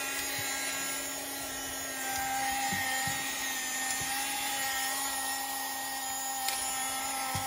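A Star Wars R2-D2 desktop USB vacuum cleaner runs with a steady, fairly quiet electric motor whine and constant hum, its weak suction droning evenly throughout with a few faint clicks and no talking.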